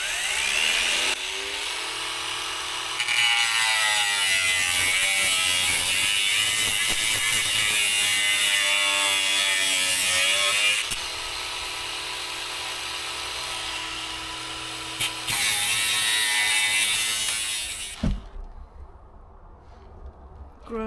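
Power tool cutting rusted metal out of a Rover P6 body in a cramped space, a loud sustained grinding whine with shifting pitch for about eighteen seconds, then stopping abruptly into quieter clatter.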